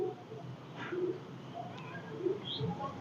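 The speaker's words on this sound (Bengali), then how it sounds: "অসাধারণ একটা পাখির কবুতর" A Chinese teddy pigeon, a long-flying breed, gives soft low coos close by, a few short murmuring phrases spread across a quiet background.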